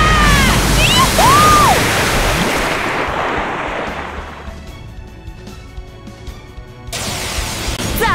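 A large crashing wave summoned in the video game Fate Grand Order, a loud surging roar of surf and rushing water with whistling tones at the start, fading to a quieter wash before a fresh burst.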